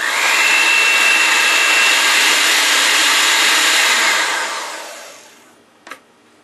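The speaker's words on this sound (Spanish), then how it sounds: "Batir las claras hasta lograr cierta rigidez, hasta que esponjen bien y empiecen a secarse." An electric mixer whirs loudly and steadily as it beats egg whites to stiff peaks, then winds down and stops near the end, followed by a brief clink.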